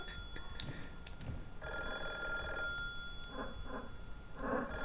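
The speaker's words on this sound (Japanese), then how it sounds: "電話かかってきてんの今" A telephone, a black rotary phone in the Wii horror game Calling, rings in a series of bright repeated bursts that start and stop against a murky, droning game background.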